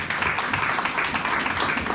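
Church congregation applauding during a worship service, a dense steady patter of many hands clapping together, moderately loud and continuous for a couple of seconds.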